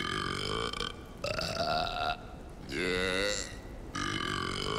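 A character belching in the action RPG Fable III, several long, loud, drawn-out burps one after another with short pauses between them.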